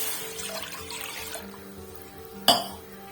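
A glass of water poured into a hot kadhai gives a broadband watery rush and trickle through the first seconds, easing off, with a brief sharp splash or clink near the end.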